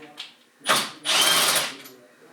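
A power drill spins seat bolts out of a flight sim rig in two short bursts, a brief whir followed by a longer buzzing run, close and fairly quiet.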